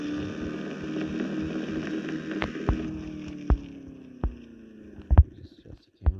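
A Can-Am Maverick side-by-side engine in low gear in the Offroad Outlaws video game hums in a steady low drone that slowly drops in pitch, punctuated by several sharp thumps and knocks.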